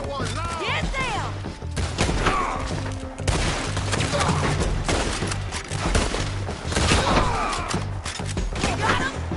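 Gunfire in a Red Dead Redemption 2 shootout near a bridge, a dense barrage of shots and impacts running continuously, mixed with shouting voices throughout.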